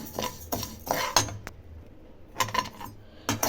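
Dry rice being stirred in a pan over a medium flame gives bursts of scraping, clinking utensil strokes against metal, separated by short pauses, close and fairly quiet.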